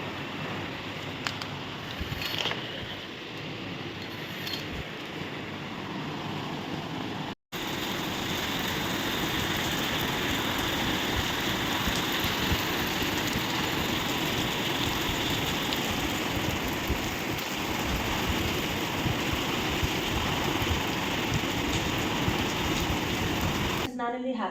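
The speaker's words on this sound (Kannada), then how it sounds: "ಮಳೆ ಗಾಳಿನೇ ಸ್ಟಾರ್ಟ್ ಆಗಿದೆ ನೋಡಿ" Heavy rain driven by wind comes down as a dense, continuous roar that fills the scene after a brief cutout, steady and unbroken to the end.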